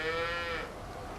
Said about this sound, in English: Come go see the cows once more